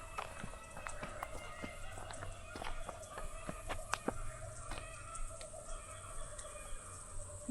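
Kookaburras call in Brisbane, Australia: quiet, fairly distant bursts of sharp, chattering notes repeat over a low background hum.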